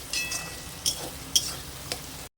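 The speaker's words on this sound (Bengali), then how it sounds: "রসুন আদা দিয়ে ভালো করে কষিয়ে নেব" Garlic and ginger paste sautéing in a pan, a soft steady sizzle with a few sharper scrapes of a spatula stirring, close and moderately quiet with no talk.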